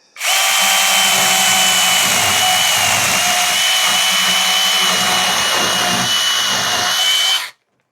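Ingco chainsaw with an 8-inch bar, no oiler and no chain brake, running loud and close in one steady, high-pitched whine for about seven seconds before cutting off sharply.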